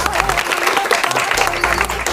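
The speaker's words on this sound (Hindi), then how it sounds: "तालियां हो जाए इनके लिए।" Audience applause at a training academy gathering, dense close clapping with some crowd noise, while a voice and music-like low tones sound alongside.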